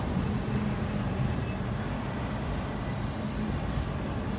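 A CSX freight train hauling a long string of autorack cars, including a Conrail Quality Autorack, rolls past in a steady, continuous low rumble of wheels on rail, with a few faint high squeals over the top.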